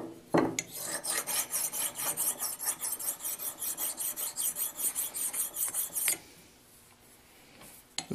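A precision ground flat stone rubbed on a metal surface in quick back-and-forth strokes, a close rasping scrape repeated about twenty times in a steady rhythm, then stopping.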